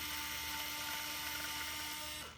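A cordless electric screwdriver from a 26-piece 5Nm set with 3-gear torque whirs steadily at a high pitch close by, then spins down at the end.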